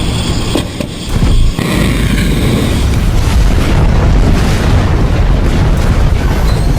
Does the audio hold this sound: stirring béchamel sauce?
no